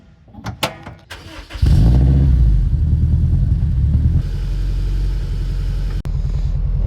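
A modded Honda S2000 starts up after a few clicks and clunks, then settles into a loud, deep, steady engine rumble that stays strong and even, with no one talking.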